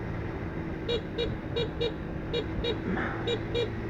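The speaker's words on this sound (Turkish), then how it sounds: "Korna biraz daha yüksek sesli olabilirmiş açıkçası." A Kuba Blueberry 50cc scooter's horn gives about eight short, thin beeps in quick uneven pairs, over a steady low engine rumble.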